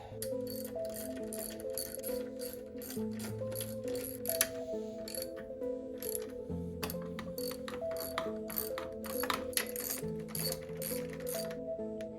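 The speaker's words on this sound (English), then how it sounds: "now I'm gonna go ahead and tighten all the bolts down." A ratchet ticks steadily and quickly, tightening bolts during a turbo install on a 2JZ-GTE engine build, with continuous pawl clicks running over a background of sustained music tones.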